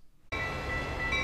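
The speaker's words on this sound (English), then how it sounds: "Chirping and chugging along. They're the same old trains on the outside" A Metra commuter train rumbles along, starting abruptly after a brief silence and then holding a loud, steady rolling drone with a faint high whine running through it.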